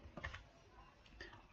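Faint keystrokes tap on a computer keyboard in a few quick, light clicks, quiet and close with no talking.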